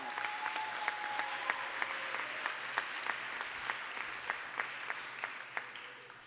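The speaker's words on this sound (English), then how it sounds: "Can we give them both a round of applause?" An audience at an awards gala claps in sustained, steady applause, heard from a moderate distance at a fairly soft level with crisp individual claps standing out.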